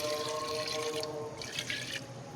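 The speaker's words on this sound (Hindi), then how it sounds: "इसके अंदर पानी डालेंगे" Water pouring into a pot holding 1 kg of mutton or beef for pressure cooking, a steady splashing hiss that eases off midway and then briefly swells again, close with no voices.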